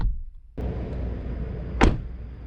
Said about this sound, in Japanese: ドアを閉めた音は